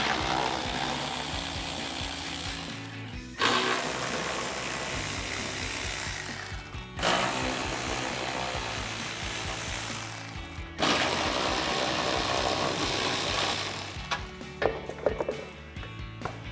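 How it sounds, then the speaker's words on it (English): Ratcheting socket wrench backing out 8mm fender liner screws on a 2019-2023 RAM 1500 pickup, a steady mechanical whir and clicking in several long bursts separated by short pauses, close and loud, with no talking. "We have 4 8mm screws that will take an 8mm socket to remove."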